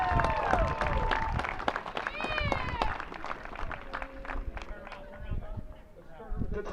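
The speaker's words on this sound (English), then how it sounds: "Let's give one more round of applause for this team and coaches." Applause for a championship youth baseball team and coaches at a Little League opening day ceremony, scattered outdoor clapping mixed with voices, whistles and crowd chatter throughout.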